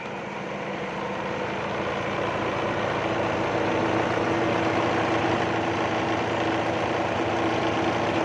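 Kubota L5018 tractor engine turning below 1000 rpm while driving a water pump through a 22-inch pulley, giving a steady, loud, low rumbling idle that holds constant throughout.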